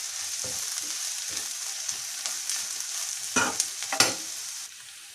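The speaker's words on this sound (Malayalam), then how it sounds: "നന്നായിട്ടൊന്ന് ഇളക്കി കൊടുക്കാം." Egg roast masala with chilli and turmeric powders sizzles softly in a pan while a spoon scrapes and stirs in several distinct strokes, the last two louder, then the hiss fades.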